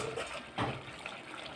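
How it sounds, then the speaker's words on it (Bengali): Water splashes briefly into a pressure cooker pot of mutton curry with potatoes and spices, a short close gush over low background noise. "এবার জল দিয়ে দেব।"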